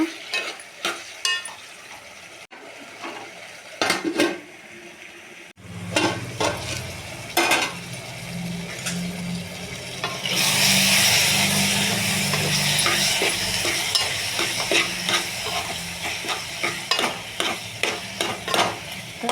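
Tomatoes and ginger cook in a pan for a drumstick tomato curry, with a spoon scraping and clattering against the pan in uneven bursts over a sizzle that grows louder and denser in the second half.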